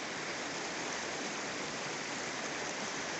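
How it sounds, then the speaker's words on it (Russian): The Kubat, a clear mountain river in Dagestan, rushes and flows in a steady, dense roar that stays even and unbroken throughout, with no voices. "Вот речка наша Кубат. Такая речка вообще идеально чистой водой."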